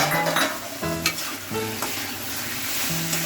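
Close-up frying sizzle of crushed ginger and garlic, with a spatula scraping and stirring the pan in several uneven strokes, no one talking.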